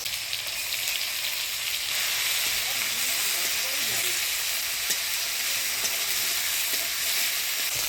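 Tomato and ginger paste sizzles in a pan, giving a dense continuous hiss with faint stirring underneath and no talking.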